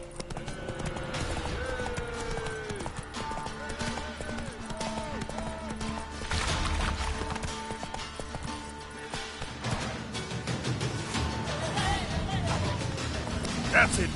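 Roach the horse gallops in The Witcher 3, a steady rhythmic clip-clop of hooves close up under game music, with an occasional whinny and someone talking over it.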